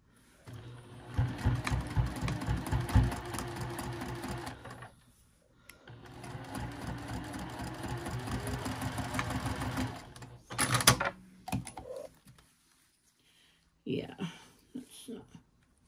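A sewing machine stitches a small zipper pouch in two sustained runs of rapid, steady whirring with a pause between, followed by brief clatters and handling noises as it is adjusted.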